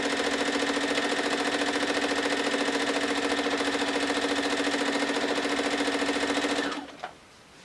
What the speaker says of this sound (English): Now we're going to sew all the way down one side